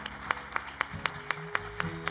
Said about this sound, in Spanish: Vamos a dar un aplauso a Jesús por estas manos que se han levantado.